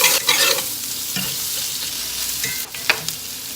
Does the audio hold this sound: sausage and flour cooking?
yes